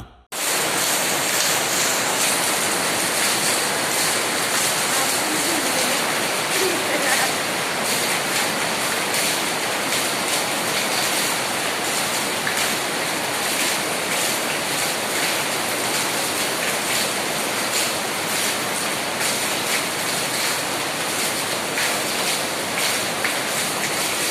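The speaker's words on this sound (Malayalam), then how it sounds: "തകർന്ന മേൽക്കൂരയിലൂടെ മഴവെള്ളം ചോർന്ന് ആശുപത്രിക്കുള്ളിൽ പതിക്കുന്നതോടെ" Rainwater pours through a broken roof into a hospital in a loud, continuous splashing rush, dense and unbroken from start to finish, with no voices.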